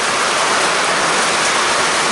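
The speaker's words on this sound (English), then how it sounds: "The rain is crazy." Heavy rain pours down on a trail at Annapurna, a dense, loud and steady hiss with no break and no voices.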